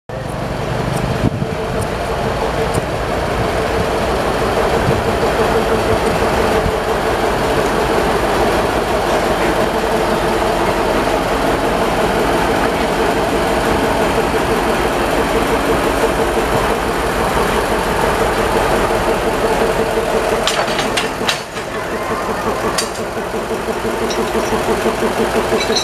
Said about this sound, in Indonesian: Tuh lokomotif mau disambung.